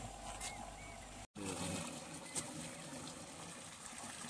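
A bucket motor pump sucking surface water from a spirulina pond, a faint steady watery gush and hum with low trickling, quiet and continuous apart from one very brief dropout.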